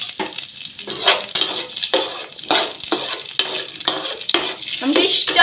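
Raisins and cashews frying in hot ghee give a close, crackling sizzle broken up by repeated scraping stirs of a utensil against the pan, in an uneven rhythm without talk.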